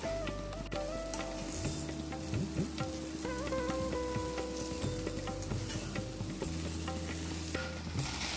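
Okra, or ladies finger, stir-frying in a pan, giving a steady close sizzle and crackle with light stirring scrapes, no talk over it.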